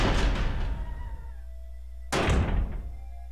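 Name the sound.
door opening in the video game Resident Evil HD Remastered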